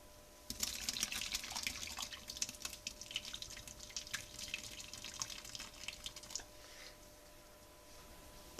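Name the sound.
pouring cheesecake batter onto the flan layer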